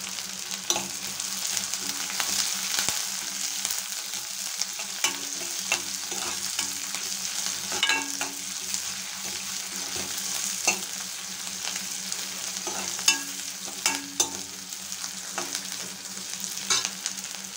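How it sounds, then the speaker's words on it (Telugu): Onions, green chillies and curry leaves frying in a pan for a plantain and green peas curry, a steady close sizzle with repeated scraping and stirring taps throughout, no voices. "ఆనియన్ కొంచెం వేగాక అందులో 2 పచ్చిమిరపకాయలు అలాగే కొంచెం కరివేపాకు కూడా వేస్తున్నాను."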